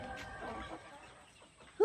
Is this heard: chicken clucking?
yes